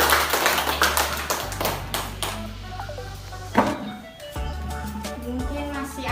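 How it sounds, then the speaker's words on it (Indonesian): A group of teachers clapping together at a school gathering, with sharp, dense claps mixed with knocking and tapping and a low hum underneath, a steady round of applause lasting several seconds. "mari kita tepuk tangan."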